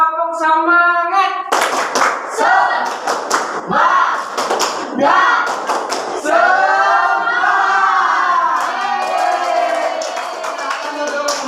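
A classroom of children repeats a rhythmic spirit clap, a teacher's voice leading before crisp patterned bursts of unison clapping with chanting kids, then lingering cheerful voices.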